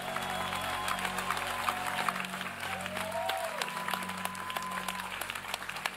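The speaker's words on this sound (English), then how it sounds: "Clap your hands and celebrate the Lord Jesus." Church congregation clapping hands during a Sunday service, steady dense applause from a crowd with music playing underneath, continuous throughout.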